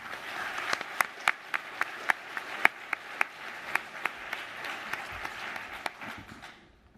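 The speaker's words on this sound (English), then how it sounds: "So they deserve a huge round of applause." Scattered clapping at an awards ceremony for a student cluster computing competition, with sharp individual claps standing out over a softer bed of applause, fading away at the end.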